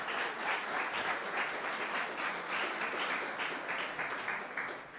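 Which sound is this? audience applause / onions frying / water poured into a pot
audience applause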